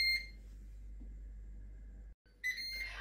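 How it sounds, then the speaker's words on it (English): Two short electronic beeps from a Ninja Foodi pressure cooker cooking potatoes, one at the start and one after a pause, over a low steady hum. "And the Ninja Foodi beeps."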